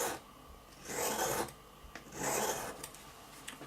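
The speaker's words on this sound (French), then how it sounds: "tirer le bout de votre lame, toujours dans le même sens, voilà, pour aiguiser la lame" A travel knife blade is drawn along a sharpener in the same direction each time, giving two slow, close rasping strokes separated by a quiet gap, with faint small clicks between them.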